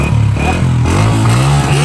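A new 2025 Honda 125cc motorcycle engine runs close by, with a loud, steady, throbbing idle and slight shifts in pitch, like gentle revving, throughout.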